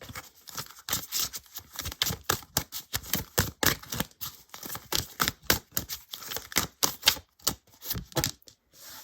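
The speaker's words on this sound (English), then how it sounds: "I hope this shuffling isn't loud for you guys." Tarot cards shuffled up close, a steady run of crisp riffling slaps and flicks repeating rapidly for the whole stretch with no voices.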